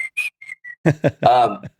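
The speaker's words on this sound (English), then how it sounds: "Whistling." A few short whistled notes, then a quick burst of speech with a brief laugh or vocal flourish at the end.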